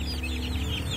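Young chicks in a coop chirp in quick, high, wavering peeps, several overlapping near the listener above a steady low background hum.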